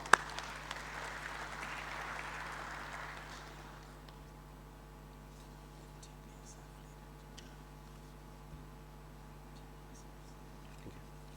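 Applause from the audience at a Tanzanian oil and gas congress swells as a broad clatter for a few seconds, then fades into quiet room tone with faint ticks.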